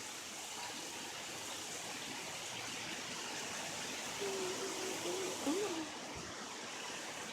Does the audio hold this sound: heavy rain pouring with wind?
yes